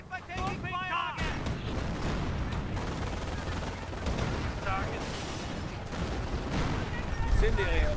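Gunfire crackles and booms steadily around a sniper on a Company of Heroes battlefield, loud and dense for the whole stretch, with a voice speaking over the shooting.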